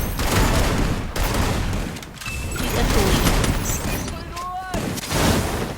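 Rapid bursts of gunfire from the Free Fire battle game, loud and dense throughout with brief lulls, mixed with other game effects and a voice talking over it.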